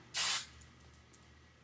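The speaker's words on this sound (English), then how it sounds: "when I spray my hair, I kind of just do a little bit like that" Hairspray hisses out in one short, close burst onto hair as curls are styled for volume after a flat iron, followed by quiet handling sounds.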